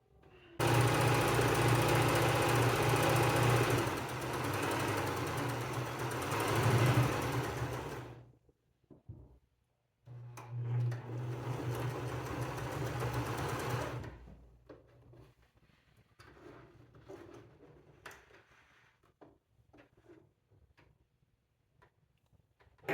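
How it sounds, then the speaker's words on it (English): Sewing machine stitching around the rim of a foam cosplay wizard hat: a steady, loud mechanical whirring run of about eight seconds, a short pause, a second run of several seconds, then quiet handling ticks. "I'm going to do a stitch and go all the way around the outside of my hat to smash down the seam a little bit."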